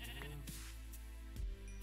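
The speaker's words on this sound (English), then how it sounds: "Sheep!" Sheep bleating in the Minecraft video game, a single brief bleat, quiet and short, with no talk over it.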